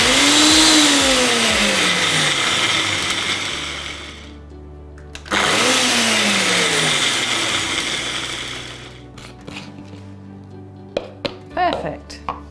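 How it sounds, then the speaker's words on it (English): A food processor loudly blitzes a cashew nut and turmeric mixture into breadcrumb-sized crumbs in two sustained whirring bursts, with a pause between them, then settles into small knocks and clatter. "So now we just want to blitz this to breadcrumb size."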